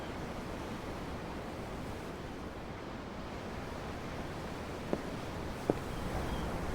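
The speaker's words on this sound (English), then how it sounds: "I'm looking at the ocean." Steady ocean surf from the sea in the game Tales of Arise, a continuous broad wash of waves and wind at an even level, with a couple of faint brief clicks near the end.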